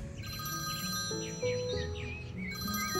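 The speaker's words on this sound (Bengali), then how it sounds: "ঠিক তখন ফোনটা বেজে উঠল" A telephone rings with a repeating electronic melody, used as a sound effect in a Bengali horror audio story; the tone is clear and steady, heard alone without talk.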